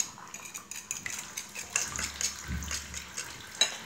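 Ingredients being mixed by hand in a bowl with a utensil, clinking and scraping in irregular strokes, close and fairly quiet, with a brief louder knock near the end.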